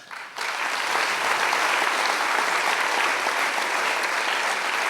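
After a brief quiet moment, a biosensor-contest audience bursts into dense, sustained applause that holds at an even, full level to the end, with no talking over it.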